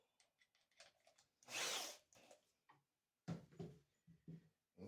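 A power drill with a screwdriver bit drives screws into wood for a beginner woodworking project: one loud, sustained whine of about half a second near the start, then a rougher burst later, with softer scattered handling noises and quiet gaps between them.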